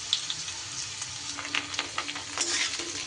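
Cut potatoes frying in hot mustard oil and being stirred in a pan, a soft steady sizzle with scattered spatter and scraping clicks from the spoon, close but fairly quiet, without speech.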